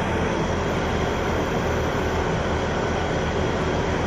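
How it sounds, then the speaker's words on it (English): An air vent at night gives off a constant loud rushing hum, steady and unbroken throughout with no other sounds. "And I'm sorry about the noise that vent's making as well."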